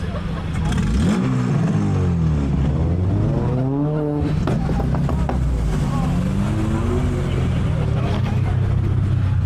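A very loud Honda at a car meet revs hard with rising and falling engine pitch, then pulls away, the roar staying close and dominant throughout.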